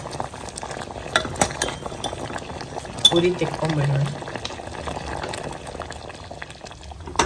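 A pot of buttermilk curry bubbles and simmers close by with soft popping and crackling, while someone talks over it.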